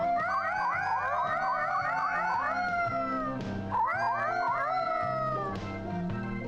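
Repeated cat meows from a video game, a run of rising, wavering cries in quick succession, then a pause and a second burst, loud and close over steady game music.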